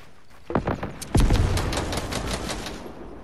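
Rapid automatic gunfire in the video game Fortnite Chapter 2: a burst starts around half a second in, then a loud sustained stream of close shots with a booming low impact, no talking.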